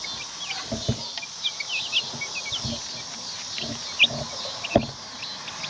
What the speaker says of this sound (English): Chicks are getting quite large.